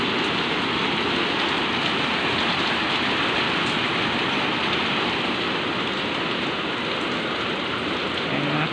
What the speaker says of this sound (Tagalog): Lakas ng ulan dito sa Pasig.